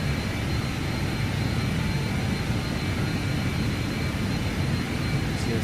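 BAE 146 jet engines climbing out after takeoff in a flight simulator game, a steady, loud, broadband roar with an even hiss that holds constant throughout, no talking.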